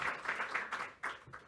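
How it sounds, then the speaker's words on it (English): Applause follows a talk on next-generation electrified vehicles, with a short burst of scattered audience clapping heard in distinct, uneven pulses at a moderate distance. "Big applause."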